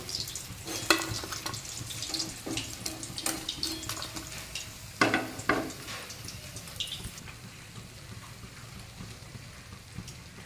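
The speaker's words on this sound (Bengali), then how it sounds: "বাকি মাছগুলো আমি একইভাবে ভেজে নিচ্ছি" Amude fish frying in a pan gives a steady, soft sizzle, with a few sharp clicks of a utensil against the pan near the start and midway.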